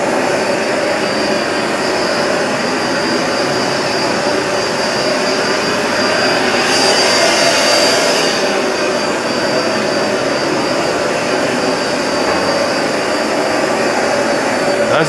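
A Hoover Smartwash Pet XL carpet cleaner runs over rugs with a loud, steady motor whine and suction roar that swells briefly midway, with no speech.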